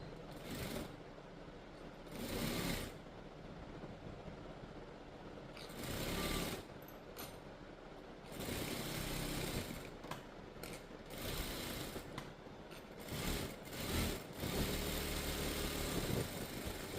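A sewing machine stitching a blouse runs in repeated short bursts of rapid mechanical whirring and clatter, close and moderately loud, with brief pauses between runs and no talking.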